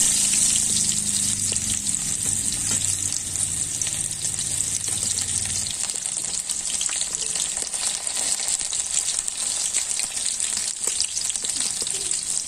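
Chopped onion frying in oil for a Chhattisgarh-style mutton curry, a steady close hiss of sizzling that carries on without a break, with a low rumble under the first half that then drops away.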